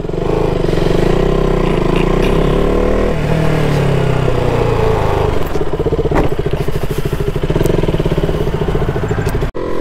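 Loud KTM RC390 motorcycle engine revving hard and continuously up close, its pitch rising and falling through repeated throttle blips on a public road, with no talk over it.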